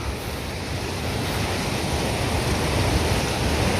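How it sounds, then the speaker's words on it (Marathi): A village river running full to both banks rushes steadily, a loud, dense broadband roar heard close with no voices over it. "दुथडी वाहणारी ही नदी"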